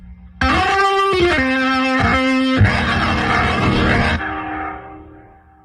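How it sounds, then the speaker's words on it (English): Heavily distorted organ through a Boss Organ Lunchbox with heavy overdrive plays a few loud, harsh chords in succession, turning into a dense, roaring wash before trailing off. "And then just crazy overdrive."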